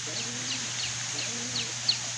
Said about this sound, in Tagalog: pakita ko pala sa inyo yung mga ibon na ikakarga natin